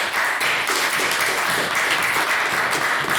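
Debate audience gives the speakers a round of applause at the close of a debate on populism, dense continuous clapping filling the room at steady volume throughout.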